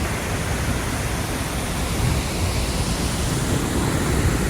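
Steady, dense rush of falling water from a waterfall fills the whole stretch, a constant roaring wash with no pauses and no voices.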